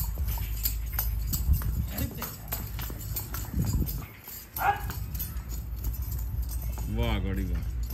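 A Nukri breeder mare walks with steady clip-clopping hooves at close range, her footfalls mixed with a dog barking, jangling tack and people talking throughout.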